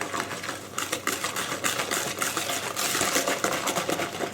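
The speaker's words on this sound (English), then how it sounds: "just concentrate on getting those dry ingredients mixed in" Fairy cake batter with dry ingredients is mixed briskly in a bowl, giving a close, steady rapid clatter and scraping that runs continuously for several seconds without speech.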